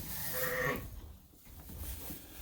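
Sheep and ewes bleat inside a lambing barn during lambing season, with several overlapping calls near and mid-distance, strongest in the first second, then a brief lull before the animal noise and shuffling rise again.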